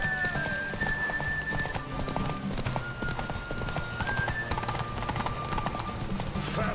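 Roach, Geralt's horse in the video game The Witcher 3, gallops with a fast steady clip-clop of hooves, close and continuous throughout, over a faint musical background with no voices.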